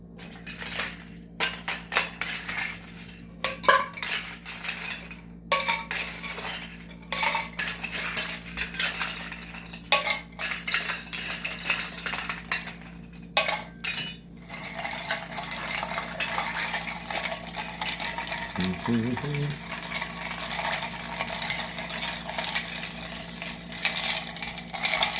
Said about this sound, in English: Now I'm just going to ice this bad boy up and give it a stir.